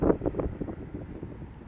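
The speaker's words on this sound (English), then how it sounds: "Windy, breezy, easy on this late summer AM, PM" Outdoor wind on a late summer morning before dawn buffets the microphone in low, rumbling gusts that pulse steadily throughout.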